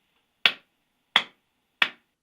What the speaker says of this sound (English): the reason I'm clapping is because that should also give you an idea of when I clap